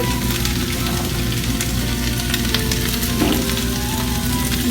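Loitta dried fish frying in a pan, a steady dense sizzle running loud and close throughout with faint stirring scrapes near the middle.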